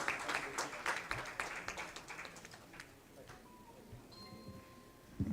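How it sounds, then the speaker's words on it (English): A scattered burst of clapping from an audience at an education award ceremony fades out over a few seconds, with a faint tone lingering afterward. "can we please have a huge round of applause?"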